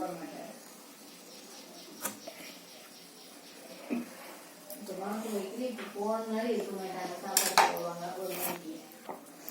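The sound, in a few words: knife cutting a mango in half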